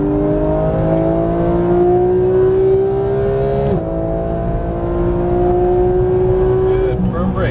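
A car accelerating hard on the throttle during a high-performance driving lesson, engine revving in a rising whine with a brief gear shift midway and tyre noise, close and loud, with an instructor's voice occasionally heard over it.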